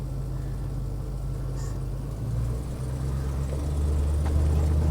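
A project car's engine on a spring cold start settles into a steady, low idle rumble that holds throughout with a slight rise in level near the end. No voices are heard.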